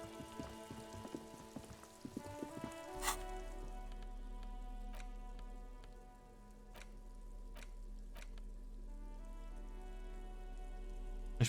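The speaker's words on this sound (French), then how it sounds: "Yes, il pleut." Steady rain falls in the Disco Elysium video game, a continuous fine patter with scattered sharp drips and ticks over a low ambient hum, beginning after a brief musical passage.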